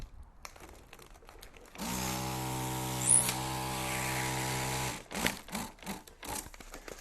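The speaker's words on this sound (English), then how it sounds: "I'm just going to use the Legenda here to inflate it" An electric Legenda balloon inflator blows air into a Prima black taper foil balloon, a steady motor hum with a faint hiss that runs about three seconds before cutting off, framed by soft handling rustles.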